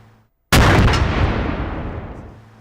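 A single .50 caliber rifle shot fired outdoors cracks suddenly and very loudly after a moment of quiet, then booms and rolls away in a long fading echo.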